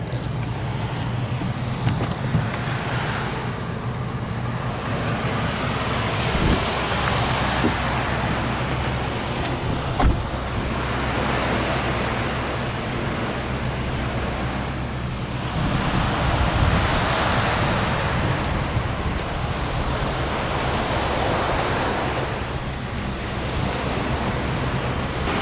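Surf at Juncalito Beach rolls in as a continuous, loud wash of waves, with gusty wind buffeting the microphone and no voices.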